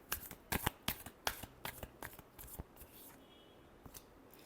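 Tarot cards are shuffled in a quick run of sharp riffling snaps that come close together, then thin out and fade to a few soft rustles, with no talking.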